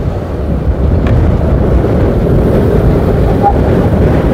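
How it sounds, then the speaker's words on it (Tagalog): Strong crosswind buffets the microphone during a road cycling race, a loud continuous low rumbling gust noise with no clear voices. "Ang lakas ng hangin, grabe."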